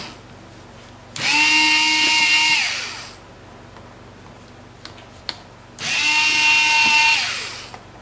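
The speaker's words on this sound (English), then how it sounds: "So you start by taking the screws out." A cordless power drill set to its lowest torque backs screws out of a Badlands winch battery cover, running in two loud sustained whirring bursts that wind up, hold steady, then trail off with a pause between.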